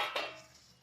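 A metal plate used as a lid lifts off a cooking pan with one quick, faint clink, followed by a fading sizzle.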